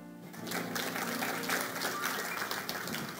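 A church congregation claps together, a steady wash of applause that swells quickly after a brief tonal sound at the start and carries on at moderate distance.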